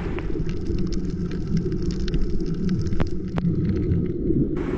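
Steady rain during a storm at sea on a spearfishing trip, a dense even hiss with low rumbling, a couple of sharp drop hits near the three-second mark, and no voices.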